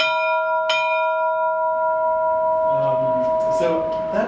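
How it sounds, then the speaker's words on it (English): An old embassy bell in a chapel gives one clear strike, and its steady, pure tone rings on for several seconds. A voice talks softly near the end. "it's just a very simple bell, but it's originally the embassy bell"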